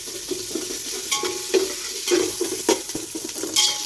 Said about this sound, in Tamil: வெங்காயத்தை போட்டுட்டு அதை கொஞ்சம் நல்லா வதக்கிட்டு